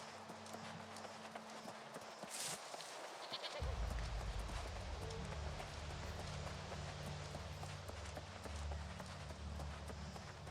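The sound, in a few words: sheep bleating in video game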